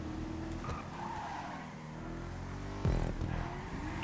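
A car in a GTA 5 stunt race drifts with a steady engine drone and long screeching tire squeal, then a sharp thud or impact near the end before the engine and skid carry on.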